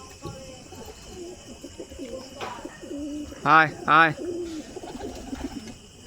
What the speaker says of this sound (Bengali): এই যে দেখো পায়রাটা,